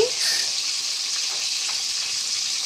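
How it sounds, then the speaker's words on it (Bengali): Spiced fish frying in hot oil, a steady broad hiss of sizzling that holds at an even level throughout, close and continuous with no talk over it. "এখন মাছ ভাজা শুরু করব।"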